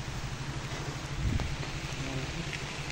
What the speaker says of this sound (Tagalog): Oh, malakas ang ulan, oh